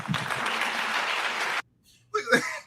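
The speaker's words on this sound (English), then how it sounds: "You hear somebody clapping real hard, real fast?" Hard, fast clapping from an audience member after a speech ends abruptly, leaving a short silence before voices speak.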